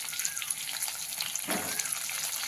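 Stuffed long capsicums sauté in a pan over a low flame, giving a steady, soft frying hiss with a brief stir around the middle.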